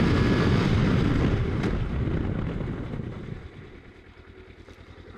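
A Kawasaki Versys X 300 light motorcycle braking to a stop, with loud rushing wind and road roar that steadily fades to a quiet idle.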